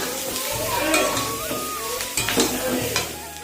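Dinner ingredients poured into a hot pan, then stirred and fried: bursts of sizzling and spatula scrapes at close range, with someone talking over the cooking.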